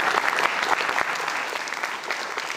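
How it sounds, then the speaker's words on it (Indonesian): Audience applause at an Indonesian science event on patents, a dense steady clapping that fills the whole short stretch without talk. "Kita berikan tepuk tangan."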